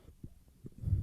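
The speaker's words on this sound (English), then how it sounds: "Are you feeling your heart beating?" A heart beating in a calm, slow rhythm, with two soft low thumps followed by a rising muffled rumble, close and faint.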